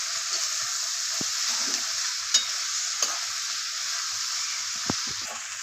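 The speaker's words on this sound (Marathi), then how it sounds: "आता आपण भेंडी टाकूया। मस्त मिक्स करून घेऊया।" Okra stirred and fried in a pan with capsicum and onion, a steady bright sizzle throughout with a few sharp clicks of the spatula scraping, close and alone without talk.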